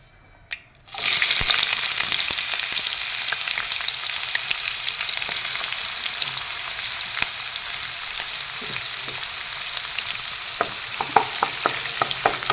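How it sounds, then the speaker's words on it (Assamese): Onions tossed into hot oil in a heated wok erupt into a loud, steady sizzle after a brief quiet start, with occasional stirring scrapes and pops running continuously to the end. "ইয়াতে প্ৰথমতে পিঁয়াজখিনি দি লওঁ"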